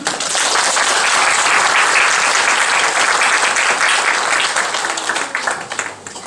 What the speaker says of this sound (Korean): 인사 한번 할 때 여러분 큰 박수 부탁합니다.